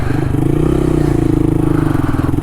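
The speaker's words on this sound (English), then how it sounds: "You can tell directly there is more engine sound now, exhaust." A Honda Monkey motorcycle engine with an aftermarket exhaust and intake rumbles steadily at close range, its loud, throaty, deep pulsing drone continuous throughout with no talking.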